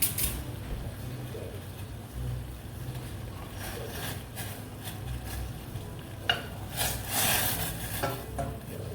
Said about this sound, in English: here our water started to boil